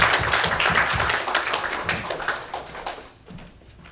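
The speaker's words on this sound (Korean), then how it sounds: "우리 학생 앞으로 나올 때 힘찬 격려의 박수를 보내주십시오." A church congregation at a Sunday service claps warmly as a student comes forward to share a retreat testimony, a dense burst of hand claps and taps that holds steady and then thins out near the end.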